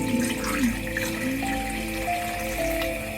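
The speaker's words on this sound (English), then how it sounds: "Added a little bit of water" Water is poured into a small cooking pot during Christmas Eve cooking, a steady running splash with faint ringing tones over kitchen noise.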